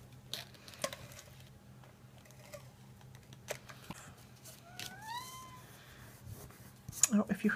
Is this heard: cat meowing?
yes